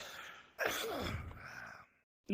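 A single sharp sneeze from one person, close and fairly loud, with a short gasp before it and a brief word spoken right after.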